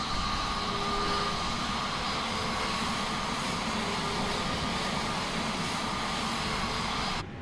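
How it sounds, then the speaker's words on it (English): Simulated Airbus A320neo engines spool up at startup in Microsoft Flight Simulator 2020, a steady whine and rushing roar with faint tonal hums, holding even before dropping off abruptly at the end. "Beautiful sound on the startup of the 320 Neo here."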